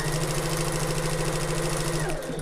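A sewing machine stitching the seam of an open-top tote bag, running at a steady fast whir with a constant low hum and rapid needle rhythm, close and continuous, easing off briefly near the end.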